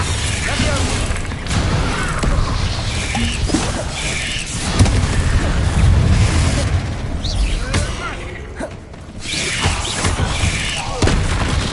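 Confringo and Bombarda spells in Hogwarts Legacy burst as heavy booms and thuds, one after another across a busy combat scene, loud and rumbling, with a voice occasionally calling out over them.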